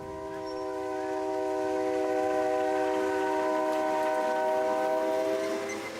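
A Mexican cargo train sounds a long, steady multi-tone horn that swells and holds for several seconds before fading, heard alone without talk.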